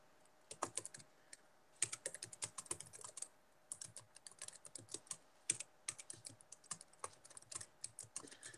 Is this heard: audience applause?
no